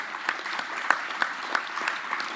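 Steady applause from a conference audience at an Italian 20th-century garden symposium, a dense patter of many hands clapping at moderate distance, even throughout with no voices.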